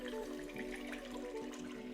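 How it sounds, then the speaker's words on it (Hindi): Water is poured into a cooking pot of mutton pieces, a steady, faint rushing stream running evenly throughout with no voices. "अब हम इसे 4 गिलास पानी या 1 लीटर पानी डाल के धीमी आंच पे गलने के लिए रख देंगे।"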